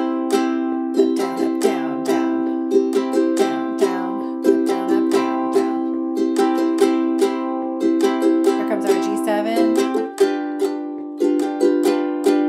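A ukulele plays a bluegrass strumming pattern on simple chords, with a steady rhythm of down and up strokes ringing clearly and close, alone without talk.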